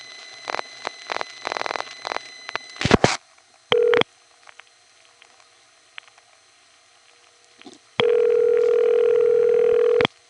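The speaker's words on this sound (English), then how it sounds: "that is the only ringing machine of that type, I call it pseudo-modern ring, in the entirety of New York City" A pseudo-modern ring machine in a New York City panel telephone exchange in the Bronx sends ring tones. Switching clicks and ticks come first, then a short tone burst and a longer steady burst of about two seconds.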